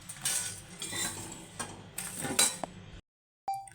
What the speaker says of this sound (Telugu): ఇలా బాగా వేయించుకున్న వాటిని ఒక ప్లేట్లోకి తీసుకుందాం